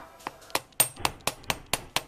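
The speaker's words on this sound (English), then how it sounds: "I'm hammering the curve at the top," Eight sharp metal hammer strikes on wire shaping the curved top of a wire-wrapped bangle flat, evenly spaced and close, each a bright ringing tap with no talking.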